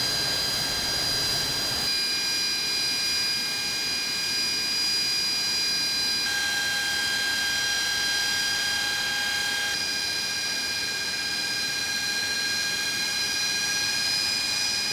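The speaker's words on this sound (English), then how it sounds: "its powerful jet engines spool up with a high-pitched whine" AV-8B Harrier II fighter jet engines spooling up, a loud sustained roar layered with piercing high-pitched whining tones that step up in pitch partway through, steady and close with no voices.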